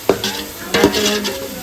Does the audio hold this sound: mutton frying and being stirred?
yes